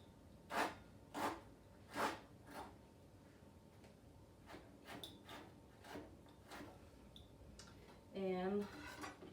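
Thin slicing of fresh ginger with a kitchen knife on a cutting board: a few sharp, evenly spaced chops near the start, then lighter irregular taps, ending with a brief scraping clatter.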